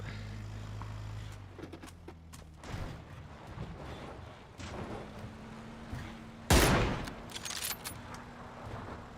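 Bursts of rapid machine gun fire in a video game, PUBG on the Miramar map, crackle through a busy, noisy mix, with one loud burst standing out sharply partway through amid scattered clatter.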